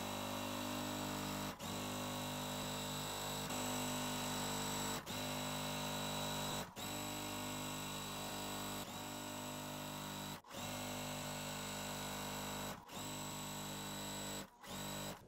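A sewing machine sews the outer border onto a Christmas quilt, running in a steady, loud, whirring buzz close by, broken every couple of seconds by brief pauses between stitching runs.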